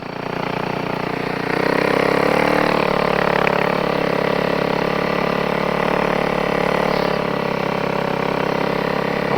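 A snow bike engine runs steadily at a mid pitch on a snowy mountain slope, a continuous droning hum that grows louder after the first couple of seconds and holds close and strong.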